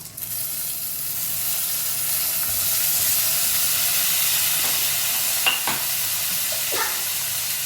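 Tomato added to a hot frying pan while cooking fish curry, giving a steady loud sizzle and hiss with a few stirring scrapes near the end; no one talks.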